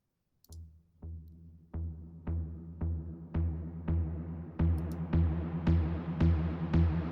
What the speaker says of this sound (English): And then we have something called Plectrum Poison from Seismic Shock.